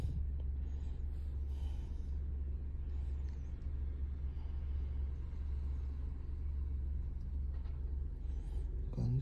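Honda Civic with an i-Shift automated gearbox running in drive, a low steady engine rumble at idle heard from close by, with faint background noises.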